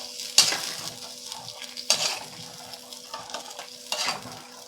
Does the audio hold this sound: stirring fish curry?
yes